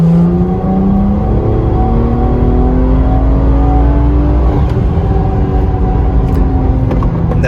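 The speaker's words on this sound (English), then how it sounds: "we're going to do a log in 4th gear from 2500 RPM to redline" Tuned car pulling hard in fourth gear from about 2500 RPM toward redline, a loud continuous engine roar with rising harmonic pitch that climbs steadily throughout, close and without talk.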